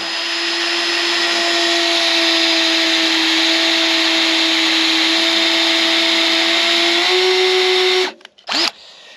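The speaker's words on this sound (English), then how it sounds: "I'm going to take and drill a little hole right in the center" A drill bores a small hole into the center of a steel bolt for a John Deere 8430 tractor repair, a loud steady high whine that holds for about eight seconds, then cuts off with a few short bursts.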